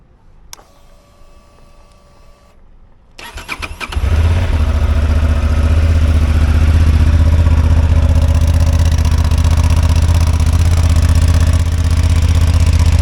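A 2023 Honda XL750 Transalp motorcycle cranks after a few quiet beeps and clicks, catches, and settles into a loud, steady close-up engine rumble.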